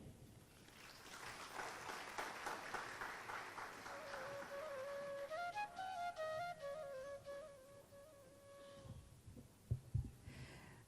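Audience applause at a Hindu Dharma Sabha Diwali banquet: dense clapping fills the first half, then thins as sustained tonal music rises and fades, ending in a few scattered thumps.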